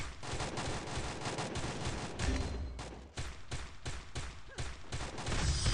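Rapid gunfire bursts from a shooting video game, dense repeated shots layered with game effects, loud and continuous with a brief dip midway before heavy firing resumes.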